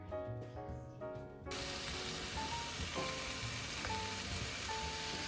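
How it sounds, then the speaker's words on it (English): Vegetables stir-frying in a pan, with a loud, dense sizzle that starts abruptly and holds steady. Faint clinks and scrapes of utensils sit under the sizzle, and no one speaks. "I'm going to stir fry these veggies here."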